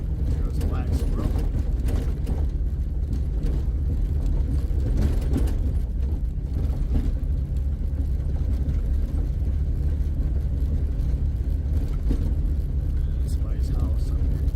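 A 2001 Jeep TJ engine pulls steadily in third gear, a constant low drone and road rumble running the whole stretch with no breaks in level, heard from inside the vehicle.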